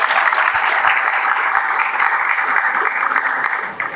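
A large audience claps after a speech, loud dense applause sustained evenly from start to finish, fading slightly at the very end.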